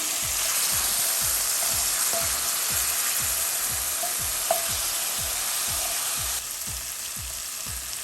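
Onions sweat in a hot pan as the first step of Jamaican-style steamed fish with okra, giving a loud, steady sizzle and hiss throughout, with a regular low scraping rhythm as they are stirred.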